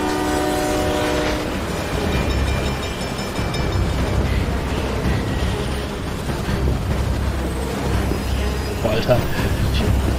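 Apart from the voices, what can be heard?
train running in the video game Beyond: Two Souls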